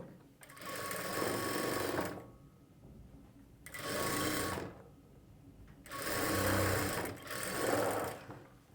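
A sewing machine stitches a plain blouse in four separate runs, each a loud close whirring burst lasting one to two seconds with brief quiet pauses between them.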